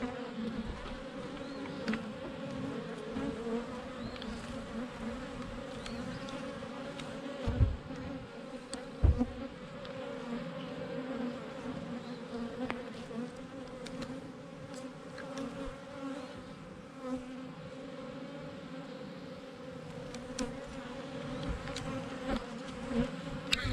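A dense swarm of honey bees hums continuously around an open hive while frames of brood are shifted between hives, a steady close buzz with occasional louder knocks and handling thumps.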